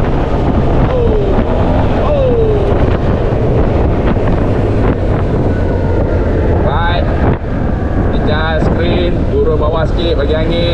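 Loud, constant wind roar buffets the microphone while riding a motorcycle or scooter at speed, such as a Yamaha T-Max, Suzuki GSX-S1000GX or Kawasaki H2 SX SE, with engine tones rising and falling beneath and a voice speaking over it.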